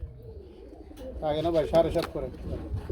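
Pigeons coo softly in low, throaty warbles at a pigeon sale, mixed with someone talking nearby.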